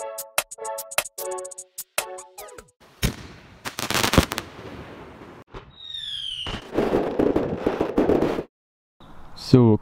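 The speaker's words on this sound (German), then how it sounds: "Wir werden jetzt mit die B-Frösche anfangen. Ich werde von jedem mal zwei zünden." Two B-class Knallfrosch jumping-frog firecrackers go off, each crackling through a rapid run of sharp bangs and pops with hissing fuse sounds between bursts, loud and close.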